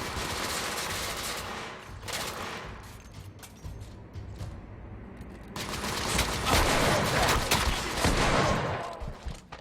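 Repeated shotgun blasts and gunfire in a Victorian-era shooter game, loud and dense in two sustained bursts with a brief lull between them.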